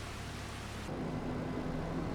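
Steady rain hisses over a farm map in Farming Simulator 25, with a low rumble of thunder rolling in partway through, filling the scene evenly with no talk.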